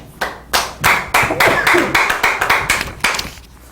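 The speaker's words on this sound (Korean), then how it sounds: "큰 박수." An audience in a church lecture gives a presenter a round of applause, about a dozen loud, rhythmic, fairly even claps spaced roughly a third of a second apart, close and clear.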